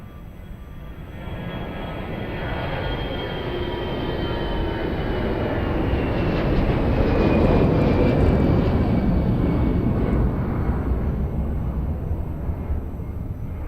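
An airliner takes off from runway 02 at Lisbon Airport, its broad engine roar building steadily and holding loud and near for the whole stretch, with a faint whine sliding across above the rumble.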